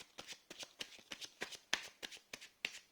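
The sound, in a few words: shuffling and dropping tarot cards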